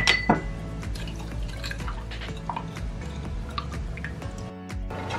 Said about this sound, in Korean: 먼저 간장 설탕 넣고 식초와 물 넣고 섞어 주시면 된답니다